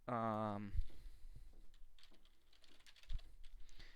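Fingers tap out a short, faint run of keystrokes on a computer keyboard, soft scattered clicks following a brief spoken phrase at the start.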